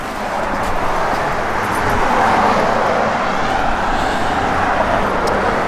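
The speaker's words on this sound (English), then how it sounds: "Car sounds real good. Nice little cam load to it." A 1969 Chevrolet Chevelle SS idles with a cammed engine, a steady broadband rumble holding for several seconds with no speech.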